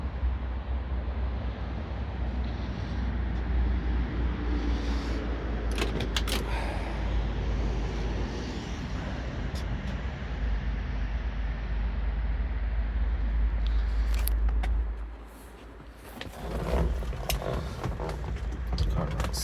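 A 1967 Buick Gran Sport 400 with a 400 V8 and four-speed runs at a steady idle, a constant low rumble that dips briefly near the end, with faint clicks and handling noises on top.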